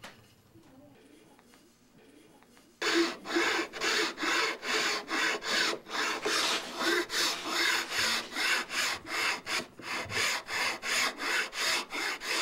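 Rhythmic rasping strokes of a hand file on wood while making a cabinet, close and steady, starting after a quiet opening with faint talk.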